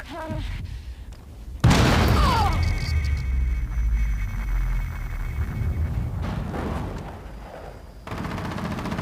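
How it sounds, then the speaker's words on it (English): Frag grenade detonating in the mobile shooter game Rainbow Six Siege Mobile, a sudden loud blast with a rumbling decay and a ringing tail, followed by quieter game sounds and a faint tone near the end. "Lancez frag."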